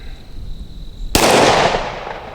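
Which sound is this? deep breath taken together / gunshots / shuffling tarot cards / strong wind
gunshots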